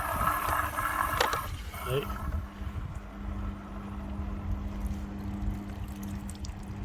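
Water poured by hand into the sump of a washing machine drain pump running outside, a splashing, gurgling wash under steady pump noise while someone talks briefly near the start.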